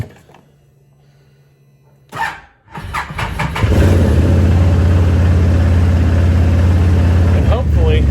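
A Can-Am Maverick Max side-by-side with a check engine light cranks, catches and settles into a loud, steady idle close by after a quiet opening, the engine note holding rough and constant to the end.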